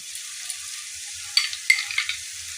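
Soft, melted tomato masala fries gently in a pan, a faint thin sizzle broken by a few sharper scrapes and taps from stirring, close and with no talking.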